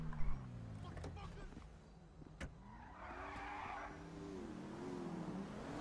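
A car driving in the GTA 5 video game, engine tones rising and falling with a brief skid-like squeal, heard under people talking.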